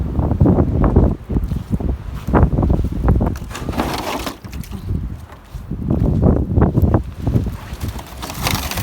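Strong gusting wind during a heavy rainstorm outdoors, a continuous rough roar that surges and eases in waves, with rustling and buffeting against the microphone and no voices.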